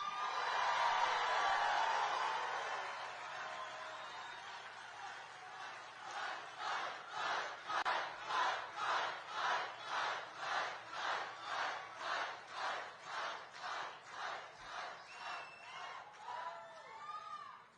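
Large crowd at a JD Vance political rally roars and cheers, then breaks into a steady rhythmic chant of repeated pulses that continues for most of the stretch before fading out.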